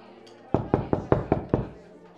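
Six evenly spaced knocks land on a classroom door, crisp and close, followed by a short fading tail. The knocks stand as a sound effect in a story reading.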